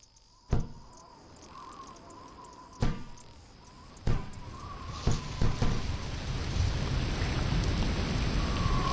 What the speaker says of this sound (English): I'm in a heavy storm.